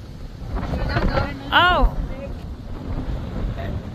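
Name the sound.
strong wind at a beach in Iba, Zambales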